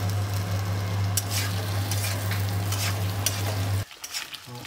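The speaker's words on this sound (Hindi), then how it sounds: "अब हमने आलू डाल दिए। अब हम इन्हें थोड़ा सा फ्राई कर देंगे।" Potatoes for aloo methi sabzi fry in a pan with a loud, dense sizzle and occasional stirring scrapes over a low steady hum, which drops away suddenly near the end, leaving faint clinks.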